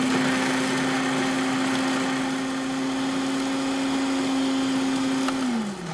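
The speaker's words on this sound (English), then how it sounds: "I'm going to throw them in the food processor." A food processor whirs steadily with a constant motor hum as it chops red cayenne peppers, then winds down at the end.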